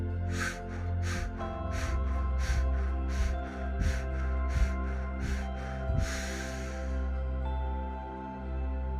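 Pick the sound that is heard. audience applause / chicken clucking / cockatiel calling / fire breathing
fire breathing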